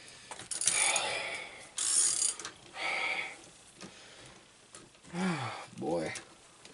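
A hand ratchet works bolts loose on a Predator 212 small engine during a teardown, giving several short bursts of rapid clicking separated by pauses, with someone speaking between them.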